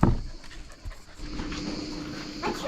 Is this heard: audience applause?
no